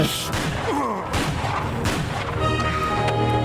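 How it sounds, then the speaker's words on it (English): A gunshot from the 1996 film Fargo: loud, booming blasts inside a dense, noisy film soundtrack, filling the whole stretch at close range. "He shot the old man!"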